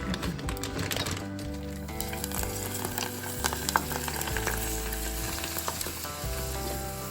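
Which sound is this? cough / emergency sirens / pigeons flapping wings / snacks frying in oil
snacks frying in oil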